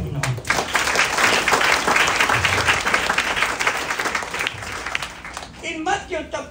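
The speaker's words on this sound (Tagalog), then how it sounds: "Palakpak sa Panginoon." Church congregation applauding, dense sustained clapping from a crowd that fades toward the end as a voice starts speaking.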